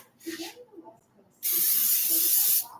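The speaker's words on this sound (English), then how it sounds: "And I'm going to spray this," Cooking spray hisses into a casserole dish in one steady burst of about a second, loud and close, after a few spoken words.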